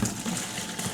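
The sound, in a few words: clean water poured into empty bucket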